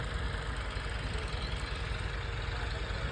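A tractor engine runs steadily nearby in a field during potato planting, a constant low throbbing hum with a faint rhythmic pulse, unchanging throughout and with no voices.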